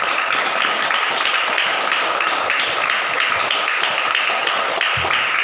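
A group of children clap together steadily at a religious storytelling session about the Prophet Muhammad, with dense, sustained applause that stays loud and continuous throughout.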